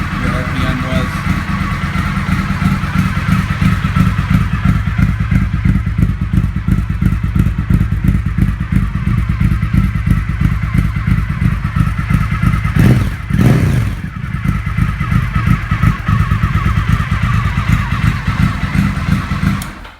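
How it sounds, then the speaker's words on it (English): A Ducati motorcycle with an aftermarket exhaust idles loud and close, its engine thumping in a rapid, throaty rhythm, with a brief rev blip near the middle before it settles back. "Of course, it sounds amazing, just like any Ducati sounds with a cool exhaust on it."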